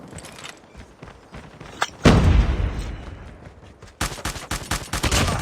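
Shotgun fire in a Call of Duty Mobile search and destroy match: scattered quieter game sounds, then a loud booming blast that rings out, followed by a dense burst of further shots and impacts, close and punchy.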